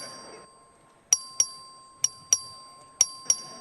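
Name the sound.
Texas House clerk ringing the vote bell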